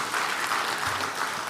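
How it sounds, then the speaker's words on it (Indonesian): An audience applauds a farmer group during a ministerial speech, a short, even burst of many hands clapping in a hall, fairly distant and unbroken by voices. "Tepuk tangan untuk kelompok ini."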